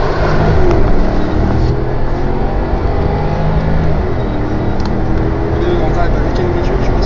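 Porsche Cayenne Turbo accelerating hard, a loud, steady engine roar close by that builds through the clip, with people talking over it inside the car.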